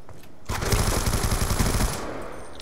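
Rapid automatic gunfire from a gun in the video game Black Ops 2, a dense burst of shots lasting over a second, loud and close, with no talking.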